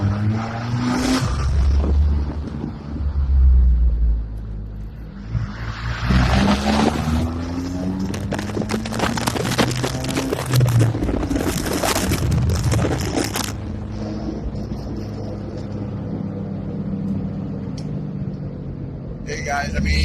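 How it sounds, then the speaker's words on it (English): A car pulls away, heard from outside: the engine revs up with rising pitch sweeps, then roars and fades, with crunching and scraping textures and some talking. "let's see if I can get you guys a good sound of how the car sounds taking off from the outside"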